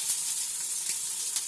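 Chopped onion frying in hot oil on a tawa, a bright continuous sizzle and hiss, close and steady, with a couple of brief crackling spits.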